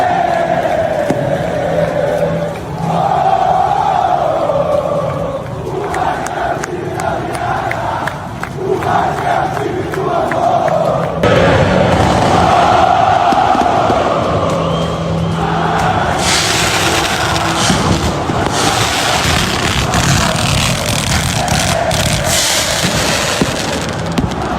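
Football fans at São Januário stadium, home of Vasco da Gama, roaring in a dense, sustained crowd din with bursts that suggest fireworks or firecrackers. The noise swells louder in the second half, with no clear speech.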